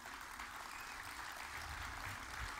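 A crowd at a Mélenchon political rally in Besançon claps continuously, a faint, distant, even roar of applause with no break.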